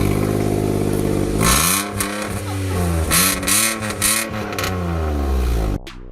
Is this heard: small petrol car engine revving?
yes